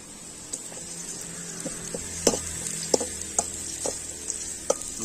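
Onions sautéing with a little salt in a pan for egg Manchurian, a continuous sizzle punctuated by several sharp scraping stirs of a spoon against the pan.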